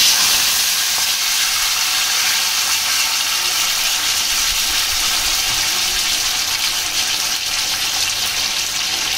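Potato pieces drop into hot oil already holding black cumin seeds, giving a steady, loud hissing sizzle that carries on evenly throughout without any voices.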